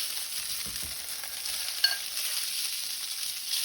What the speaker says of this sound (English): I'm gonna lay them down into my brown butter.